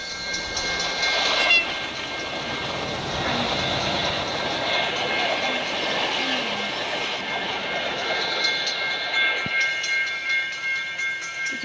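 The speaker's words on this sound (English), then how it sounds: "Another train. And another train." A Norfolk Southern freight train rolls past at a busy triple rail crossing, its steady rumble and squealing wheels loud and close throughout, with a brief horn-like tone near the start.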